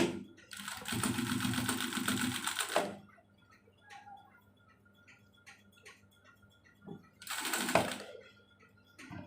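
A sewing machine runs a press stitch on a nima garment in two bursts: a long run of about two seconds, a pause filled with faint handling clicks, then a shorter run near the end.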